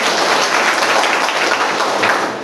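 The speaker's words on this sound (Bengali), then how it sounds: "স্যারের উদ্দেশ্যে সর্বোচ্চ একটা করতালি।" An audience at a business seminar applauds steadily, a dense, even wash of clapping that holds for about two seconds before easing off slightly at the end.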